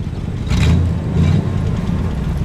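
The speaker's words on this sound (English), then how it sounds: "Go ahead, give it a rev." A 1960 Chrysler New Yorker convertible's 413 cubic inch V8 rumbles steadily and revs up twice in short bursts, close by and loud, with no talking.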